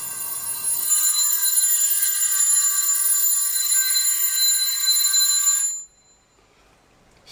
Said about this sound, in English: we can hear the bell ringing again